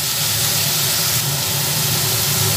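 Tomatoes and onions fry together in oil, giving a loud, constant, dense hiss that fills the whole stretch without letup, heard up close.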